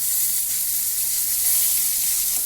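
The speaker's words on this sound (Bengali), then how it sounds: "আমি এখন শোল মাছ রান্না করব। এখন ভাজি করতেছি।" Snakehead (shol) fish frying in oil, a loud, even, close sizzle that continues without a break.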